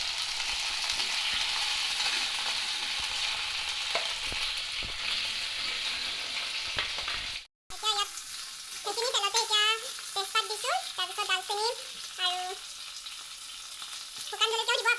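Raw chicken pieces fry in hot oil with a steady close sizzle and occasional stirring clatter, then after a brief cut a quieter spitting continues under someone talking.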